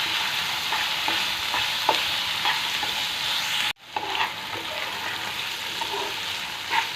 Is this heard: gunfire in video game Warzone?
no